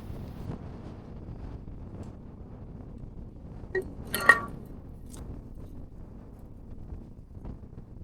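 Wind blowing on a hill trail along an ancient trade-route pass, heard as a faint, low rumbling buffet against the microphone, with a brief sharp clink midway.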